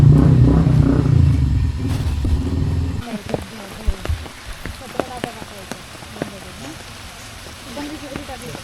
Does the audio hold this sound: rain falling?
yes